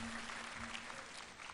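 Schoolchildren at Acharyakulam in Haridwar clap together for a classmate, a brief, faint patter of many small hands heard from a distance, steady throughout with no speech.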